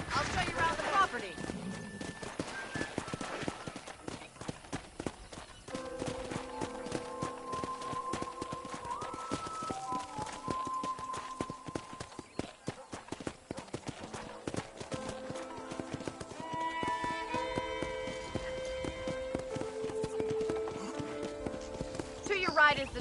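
Horse hooves clip-clop in a steady trotting rhythm as a rider moves across a ranch in Red Dead Redemption, continuing throughout beneath people talking and a light musical score.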